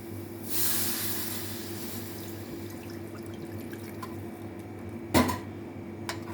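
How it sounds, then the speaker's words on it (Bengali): Water is poured into spice masala frying in a pan for handi paneer; a soft rushing pour comes early over a low steady hum, followed later by a sharp splash and a faint tick. "এবার এর মধ্যে আমি দিয়ে দেবো জল"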